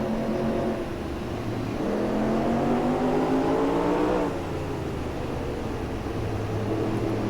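Field of race cars accelerating together at the green flag in NASCAR Racing 2003, engine notes rising loud and steady, then shifting down a gear and climbing again.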